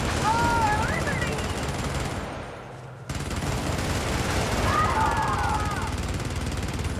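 Sustained automatic gunfire rattles in a video game, loud rapid bursts that dip briefly and then resume, with a voice talking over the shooting.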